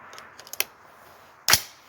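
A rifle shot from a Palmetto AR rifle with an ACOG scope at an outdoor range rings out as one sharp, loud crack near the end, after a few faint clicks and taps.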